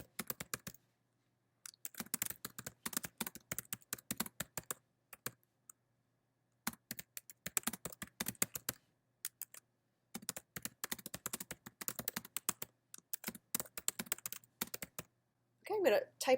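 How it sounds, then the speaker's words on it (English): Someone types a short message on a computer keyboard in bursts of quick clicking keystrokes separated by brief pauses, fairly close and moderately quiet. "I'm going to type her a little message."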